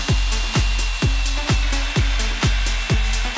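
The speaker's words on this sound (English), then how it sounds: "so that we can screw it together from this side." Power drill driving 2-inch screws into 2x4 lumber while assembling a wooden sandbox with bench seats: seven loud, evenly spaced bursts about half a second apart, each a sharp attack that fades quickly, close by with no talking.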